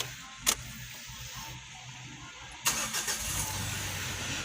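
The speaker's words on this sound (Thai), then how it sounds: "สตาร์ติดเหมือนเดิมนะครับ" A Mitsubishi Pajero engine cranks and catches after immobilizer key programming, preceded by a short click, then settles into a steady idle rumble.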